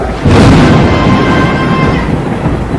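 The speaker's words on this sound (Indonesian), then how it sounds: "Api dan petir mulai bertemu, menghancurkan kapal Malin." A loud, close crack of thunder bursts in and rolls into a long, rumbling decay.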